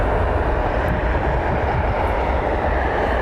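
An airliner taxiing at Cleveland Hopkins airport gives off a dense, steady engine roar, loud and unbroken throughout, with no voices over it.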